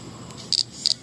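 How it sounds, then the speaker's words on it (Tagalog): Cricket chirping in two short, sharp bursts close by, high and bright against a quiet background. "Kamusta na kaya ang kuliglig na to?"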